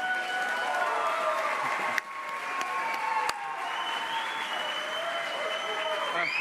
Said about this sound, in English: join me in giving her a warm round of applause